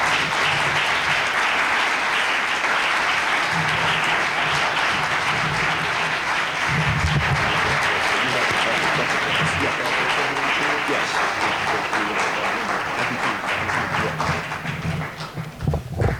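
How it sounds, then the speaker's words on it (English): Sustained audience applause for lecturer Tim Wise at a Martin Luther King Jr. commemorative lecture, a continuous wash of clapping in a hall, with some low murmuring beneath and the clapping thinning out near the end. "Let's clap it again for Tim Wise"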